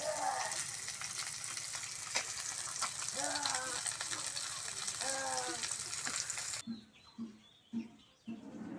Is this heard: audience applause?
no